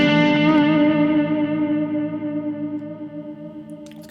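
A sustained electric guitar chord through a neural amp sim on a Mod Dwarf pedalboard rings out with repeating delay echoes and a shimmering modulated effect, slowly fading over a few seconds.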